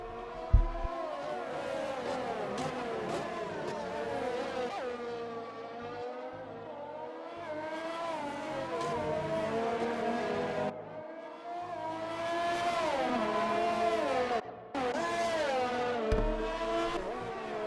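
Formula race cars on the Belgium circuit in a PS4 racing game, high-pitched engines whining and shifting continuously as cars rev, pass and sweep through corners, loud and alone.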